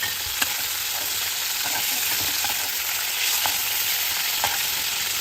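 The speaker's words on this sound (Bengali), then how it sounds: "বাকি চিংড়ি মাছটা এই গরম তেলের মধ্যে দিয়ে আমি ভেজে নেব" Tiger prawns fry in hot oil while being stirred, giving a steady close sizzle with occasional scraping and clicking from the stirring. No voices are heard.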